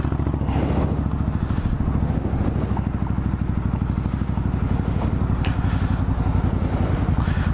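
A motorcycle runs on a Georgia road with a loud, steady engine rumble and rapid pulsing exhaust beat, joined by wind and road noise throughout.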